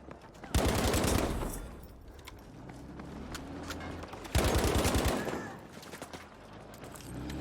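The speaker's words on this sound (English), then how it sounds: "That's MG suppressing, by the way." Two bursts of rapid machine gun suppressing fire in the game Battlefield V, each lasting under a second, loud against quieter in-game background noise, with faint voice chat partly underneath.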